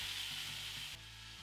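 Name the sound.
beef browning in a pan for teriyaki stir fry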